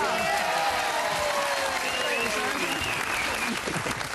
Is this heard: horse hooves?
no